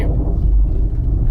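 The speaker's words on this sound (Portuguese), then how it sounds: "Agora eu sei que o barulho vem das pinças, né? Os cavaletes da pinça." A Nissan Livina 1.6 K4M makes a loud, low, thunder-like rumble from loose brake caliper brackets in the suspension, heard close up as a continuous, deep grinding drone.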